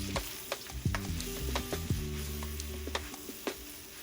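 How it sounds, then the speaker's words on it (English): Pork belly, serrano peppers and leek stir-fry in a hot pan: a quiet, steady sizzle broken by repeated scraping and clinking of a spatula against the metal at an uneven pace. "Finish with the leek, stir-fry for another minute until tender."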